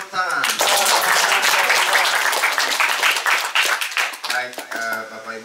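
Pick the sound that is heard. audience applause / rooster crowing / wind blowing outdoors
audience applause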